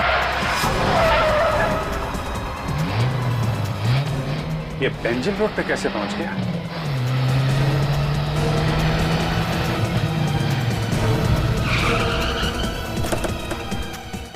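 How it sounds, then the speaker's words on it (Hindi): A car swings around on a road and its tires skid with a drawn-out squeal, loud and close, while the engine hums beneath it and someone speaks over the noise. "गाड़ी घुमा लो"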